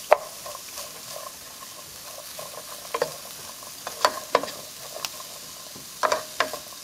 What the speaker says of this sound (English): So I'm going to saute our veggies about 3 to 4 minutes, just until they soften up and our onions become translucent